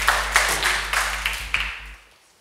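A church congregation claps hands together in a steady run of sharp, overlapping claps for about two seconds before the sound fades away.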